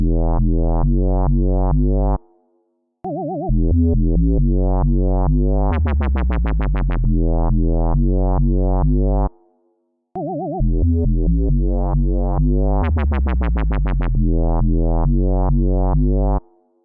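A speed garage synth bass line made with FL Studio's 3xOsc, with punchy drums, plays in a looping dance groove, with two brief dropouts and a bright stabbing rhythmic section repeating twice.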